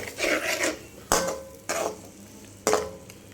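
Prawn curry masala is stirred in a pan, with four rough scraping strokes at a steady interval, each a short rasping sweep against the pan, fairly close and moderately loud.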